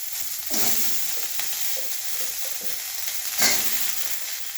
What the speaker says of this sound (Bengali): ওই সামান্য একটু তেল দিয়ে নেড়ে নিচ্ছি